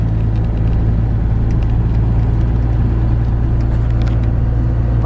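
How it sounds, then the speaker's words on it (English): A 1st Gen Cummins diesel truck drives through snow, its engine a loud, steady low rumble heard close and continuous with no talk. "I hope you guys can hear the truck in the video too, because I want that to be a part of the experience"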